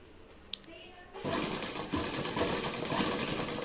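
An electric sewing machine double-stitches a shirt collar, starting after a quiet second and then running in a fast, steady whir that swells slightly as it continues, close by and fairly loud.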